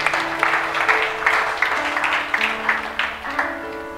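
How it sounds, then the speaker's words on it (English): A church congregation claps along in steady rhythm during a live Sunday service, the regular beats fairly loud and close over sustained organ or keyboard chords. "Clap for Jesus."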